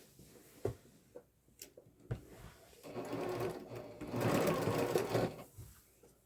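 A sewing machine stitches a quilt star block onto a sashing strip, starting with a few short bursts and then running steadily at close range for the last few seconds.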